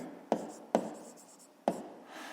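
A pen taps and scratches on paper while numbers are written out, three sharp contact clicks each trailing into a soft stroke, close and quiet.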